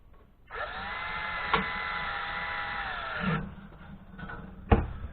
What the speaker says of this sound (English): if you're going to use a drill driver, and you're going to do that for most of this